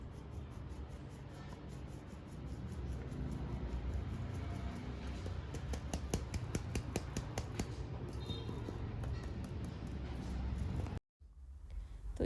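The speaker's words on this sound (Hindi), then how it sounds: "और इसको छान लेंगे।" Tapping and shaking a sieve of flour, milk powder and a pinch of salt for a vanilla cake, a fast close patter of soft rhythmic taps over a low hum, ending in a brief silence.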